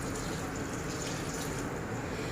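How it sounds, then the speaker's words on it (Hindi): A cup of water is poured into a dum pukht biryani pot, giving a continuous splashing, gurgling wash of liquid at moderate level with no pauses and no talk. "ये हम 1 कप पानी का इसमें ऐड कर देंगे।"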